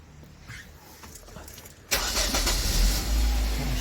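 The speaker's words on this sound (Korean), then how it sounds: "자, 시동 한번 걸어보겠습니다." A car engine cranks and catches after a quiet stretch, roaring up loud and steady; the car is being tested for a stalling fault after a connector pin repair, with wiring exposed.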